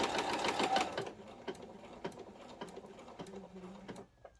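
A sewing machine stitches around the edge of a quilted fabric bowl cozy in a short, fast burst, then comes a series of faint clicks and taps as the needle is lifted and the work is pivoted.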